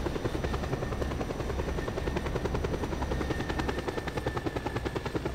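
A helicopter in the video game Just Cause 2 thumps steadily with a loud, fast rotor chop and a constant engine drone for several seconds, with no voices over it.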